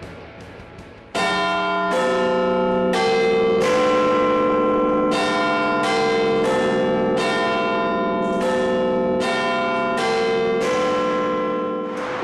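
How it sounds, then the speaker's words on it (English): Big Ben, the great bell of the Westminster clock tower, ringing at twelve o'clock, its deep resonant strikes repeating at a slow steady pace with long humming overtones that overlap, loud and clear with no talk. "The Big Ben ringing, that was really good."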